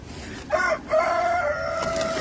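Backyard chickens after a winter storm give a brief, nearby call: a short squawk followed by a longer, drawn-out crowing note, heard alone over quiet outdoor background.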